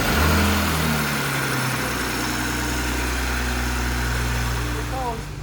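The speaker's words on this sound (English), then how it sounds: "I'm gonna go ahead and start the car." A BMW 540i with a B58 engine and MAD intake starts up and settles into a steady, close idle, a deep low hum running evenly with little change in pitch.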